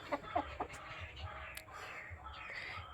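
Desi chickens scuffle and chase one another on a farm, giving a few faint, brief clucks near the start over a low background hum, with a voice present.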